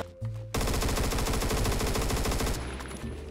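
Rapid automatic rifle fire in Phantom Forces, a sustained loud burst of closely spaced shots from a 30-round-magazine weapon with reduced fire rate, beginning after a short quiet lead-in and tailing off near the end.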